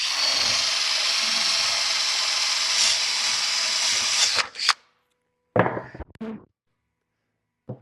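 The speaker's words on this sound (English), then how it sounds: "I will drill a pilot hole to get this started" A power drill bores a pilot hole through a wooden workbench top, a loud steady whine for about four seconds that stops abruptly, followed by a couple of short bursts of drilling or handling noise and then silence.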